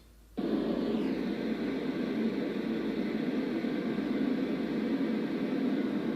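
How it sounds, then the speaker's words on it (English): A white noise machine switches on and runs with a steady, soft rushing hiss that stays even throughout. "This is a white noise machine."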